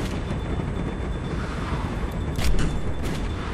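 Gunfire during a vehicle chase in The Walking Dead: 400 Days, a steady roar of bangs and rumble with a brief louder burst near the end, no talking.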